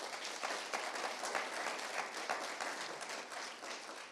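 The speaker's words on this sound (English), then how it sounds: "please give them a big round of applause" Dense, loud applause from a community summit audience at an evening research storytelling event, continuous clapping filling the room throughout without any talk.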